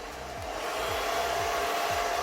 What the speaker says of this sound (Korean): 마지막에 이 헤어드라이기로 고정해 주시면 돼요